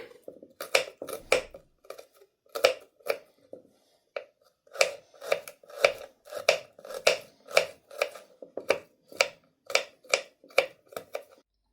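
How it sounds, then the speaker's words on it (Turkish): Crisp knife taps on a cutting board chopping garlic, irregular at first then settling into a steady rhythm, close up with no voices. "Sarımsak doğrayalım."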